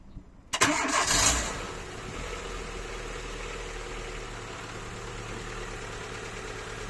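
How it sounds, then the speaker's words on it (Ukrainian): A Renault/Dacia Logan's engine cranks briefly and starts after a power steering repair, settling straight into a steady, even idle heard nearby with no voices. "Просто зажигання включи. Е, нейтралку і заводь."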